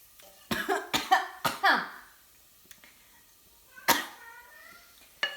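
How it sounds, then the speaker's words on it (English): A person coughs in several sharp bursts close by in a home kitchen, with a pause and then a few more single coughs. "I just have a cough."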